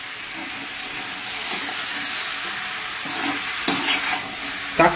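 Chicken sautéing in a pan for bachelor chicken sukka, a constant frying sizzle under repeated stirring and scraping, with a couple of sharper clanks of the spoon against the pan toward the end.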